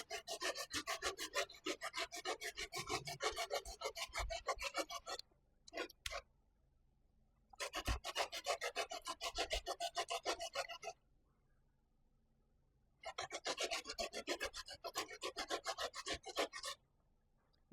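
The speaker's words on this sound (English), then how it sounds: "now I'm going to grate the ginger inside of it" Fresh ginger rubbed against a grater for a sweet potato pudding, a close, steady rasping scrape in three long bursts separated by short pauses.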